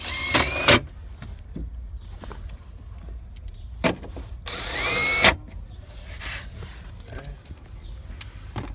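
Power drill fitted with a Phillips bit backing out screws, two short whirring bursts of the motor with faint clicks and handling noises between them.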